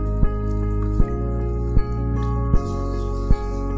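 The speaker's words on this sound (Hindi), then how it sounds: "हम जो है अच्छी तरह निचोड़ लेते हैं और ये पानी जो है ये हम किसी मलमल के साफ" Water squeezed from grated potatoes for chapli kababs drips steadily into a container, five distinct drops at regular intervals over a constant low background hum.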